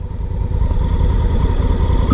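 A 2017 Honda Africa Twin motorcycle rumbles steadily through its exhaust pipe, a loud, continuous low engine drone with a faint mid-pitched whine riding on top, close and without any voices.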